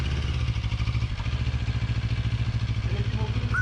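Steady mid-pitched engine drone from a CFMOTO MT650 motorcycle running close by, with a constant rhythmic throb and vibration throughout and no clear revving changes.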